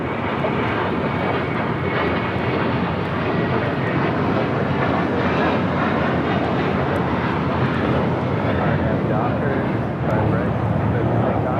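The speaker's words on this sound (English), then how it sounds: "This is American Airlines 2928 taking off to Dallas Fort Worth on an A321." An American Airlines Airbus A321 jet takes off bound for Dallas Fort Worth at LAX, a loud, steady, broadband engine roar that holds close and full for the whole stretch, with a voice talking over it.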